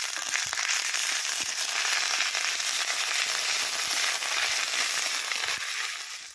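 Ginger-garlic paste hits onions browning in a hot pan and sets off a steady, loud, dense sizzle with crackling pops that holds without a break, with no voices over it.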